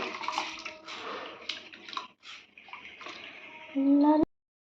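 Hot rice water from a pot of cooking rice is poured in a home kitchen, a brief splashing trickle that ends in a short rising gurgle as the vessel fills, after a person speaks.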